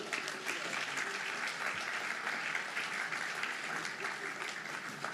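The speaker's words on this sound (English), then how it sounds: "A big round of applause to Professor Magoshongwe Twambere Mawoko, Zimbabwe Media Commission." An audience applauds at a senior officials' performance contract signing ceremony, dense, steady clapping from many hands that stays loud and even throughout, with faint crowd murmur underneath.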